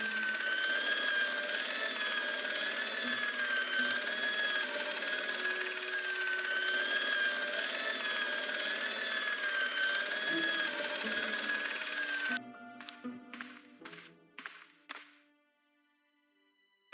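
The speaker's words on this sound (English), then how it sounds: "As I turned the corner, I saw the source of the hellish noise which echoed through the corridors. It was an industrial polishing machine" An industrial polishing machine in the point-and-click game Broken Sword drones steadily with a whining, echoing hum in a corridor. It then breaks off into a few sharp mechanical clatters before falling silent.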